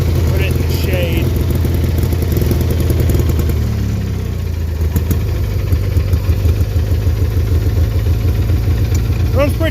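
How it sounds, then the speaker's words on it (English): An old tractor engine idles steadily throughout, a loud, low, even rumble with a brief dip partway through, while people talk over it. "Runs pretty good at idle."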